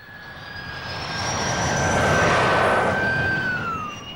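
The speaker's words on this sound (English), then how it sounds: "his first jet aircraft, the E-2839, was readied for trial" An early jet aircraft, the Gloster E.28/39 of 1941, passes in flight with a rising and falling whine and a steady engine roar that swells to a peak in the middle and fades away.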